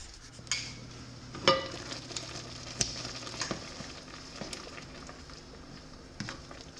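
Mushroom pasta cooking in one pan, with soft sizzling and simmering under scattered sharp clinks and scrapes of a utensil against the pan, fairly quiet overall.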